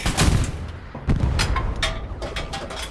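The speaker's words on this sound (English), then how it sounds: "it takes about 3 shots to kill a Panther from the front when you're shooting at these little corners" Heavy tank cannon shots in a video game, fired at a Panther tank's front corners: a few loud, sharp booming blasts spaced about a second apart, each with a rumbling tail over steady engine-like noise.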